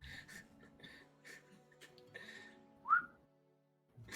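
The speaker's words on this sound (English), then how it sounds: "All right, whistle back." A person whistles short signal calls, several brief tones spaced across a few seconds with one sharper rising whistle near the end, fairly faint with quiet breathy sounds between.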